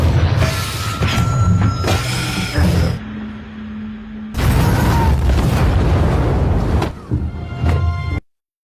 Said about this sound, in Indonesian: Tembakan itu juga mengenai tabung gas yang telah Ben geserkan.